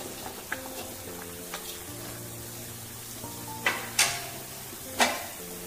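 Fish curry broth at a hard boil in a pot, a steady bubbling hiss with a few sharp crackles, under background music.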